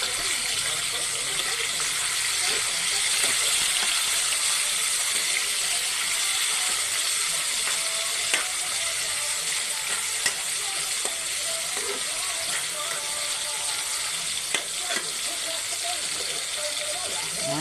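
Tomatoes sautéing in a pan for ginisang upo with dried anchovies, a steady bright sizzle with faint scattered ticks and clinks throughout.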